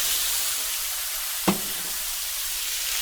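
A little red wine goes into a hot pan with browned demi-glace base and tomato paste, and a continuous close sizzle runs throughout, broken by one sharp knock midway, with no talking.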